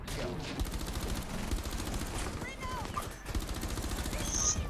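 Rapid automatic gunfire in the tactical shooter Rainbow Six Siege, dense fusillades of close bursts running almost continuously with brief pauses, mixed with game sounds and some speech.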